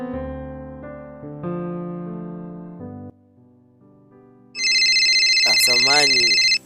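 A mobile phone ringtone rings loudly in a film scene, a sustained electronic warble with a sharp, bright tone that follows a stretch of melodic background music.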